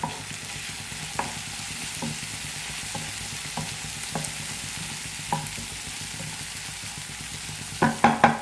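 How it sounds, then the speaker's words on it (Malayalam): Spices with turmeric powder fry in a pan while being stirred: a steady low sizzle with evenly spaced spatula scrapes, ending in a few sharper knocks against the pan. "മഞ്ഞൾപ്പൊടി ഇട്ടൊന്ന് ഇളക്കുക."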